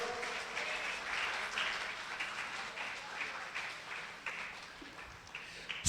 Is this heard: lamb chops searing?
no